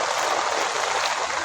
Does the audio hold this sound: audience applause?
no